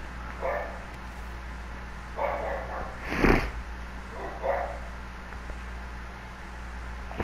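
People imitate dogs, letting out a few short barking yelps spaced over several seconds, the loudest one midway through, fairly faint over a low steady hum.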